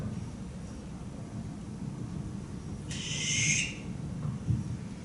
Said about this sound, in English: Barn owl. Listen for this tonight.